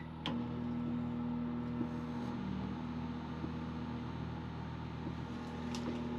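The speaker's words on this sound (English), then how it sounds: "Start the microwave first." A microwave oven hums steadily while powered by a Honda EU32i inverter generator, a faint, constant low drone with occasional small clicks and no talk.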